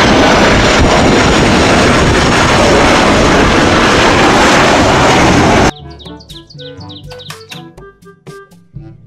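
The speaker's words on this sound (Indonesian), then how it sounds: "Pesawat terbang." A toy airplane plays a loud, steady roaring jet-engine sound for several seconds, then cuts off abruptly into a short burst of plinky electronic tones and beeps.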